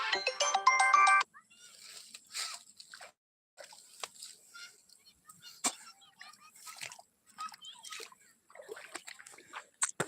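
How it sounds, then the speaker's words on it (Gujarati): A phone ringtone chimes briefly at the start, loud and melodic, then gives way to quiet drips, splashes and faint sounds. "નાગભાઈ ફોન કર્યો"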